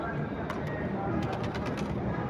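Pigeons cooing at the Data Darbar shrine in Lahore, soft repeated calls set within a steady bed of crowd murmur and nearby voices.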